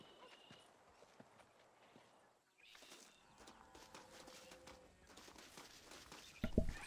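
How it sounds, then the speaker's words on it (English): Horse hooves clip-clop at a walking pace in the Xbox 360 game Red Dead Redemption, quiet and fairly distant, with a soft ambient backdrop and a brief louder thump near the end. "So let's just get on my horse right here."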